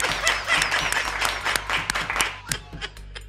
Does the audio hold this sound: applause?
yes